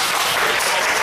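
A crowd of listeners applauds after a speech, with dense, steady clapping that stays loud and close for about a second with no pauses.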